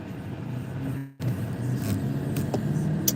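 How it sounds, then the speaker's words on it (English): Several cars roll in nearby at a grocery store, a steady low engine rumble with a brief dropout partway, then occasional faint clicks and knocks. "There's a lot of cars coming in."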